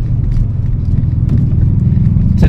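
A motorized tricycle carrying passengers and building materials rumbles along with a steady, loud low engine drone while riding, with a brief sharper noise near the end.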